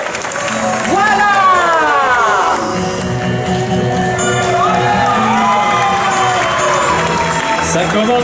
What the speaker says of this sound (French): Allez, sous un tonnerre d'applaudissements.